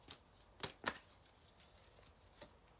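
A card drawn from a shuffled tarot deck gives a couple of crisp, close papery snaps and slides, then softer handling, with no voices.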